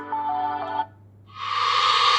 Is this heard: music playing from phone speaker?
yes